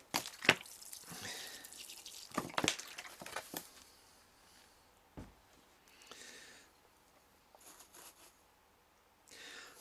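Water pours and splashes in short bursts onto a potted softwood cutting, with drips and wet trickling sounds between pauses, close by and fairly quiet.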